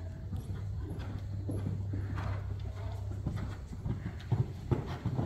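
A horse cantering in an arena, its hooves thudding in a steady, moderately close rhythm over a low background hum, with a few louder beats near the end.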